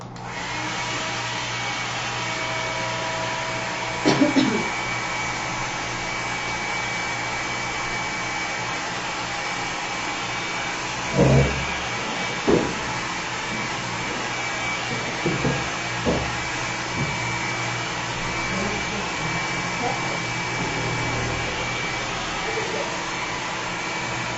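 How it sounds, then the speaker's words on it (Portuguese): A hair dryer blows steadily from a distance, speeding the drying of a craft piece before sanding, a continuous whirring hum with a few brief knocks and handling sounds. "acelerar a secagem com o nosso secador aqui, joga o vento bem de longe ou o vento frio"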